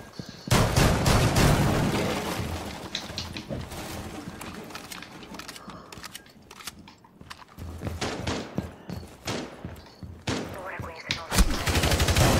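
Rapid gunfire from the game Rainbow Six Siege rattles in dense automatic bursts, with pauses between volleys and scattered single shots, loud and continuous through most of the stretch.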